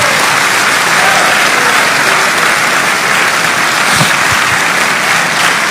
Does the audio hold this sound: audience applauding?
yes